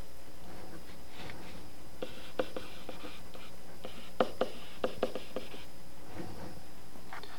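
Pencil or pen sketching a trigonometry diagram by hand on paper, with scattered scratchy strokes and a few sharper taps over a steady background hiss, close and fairly quiet, no talking.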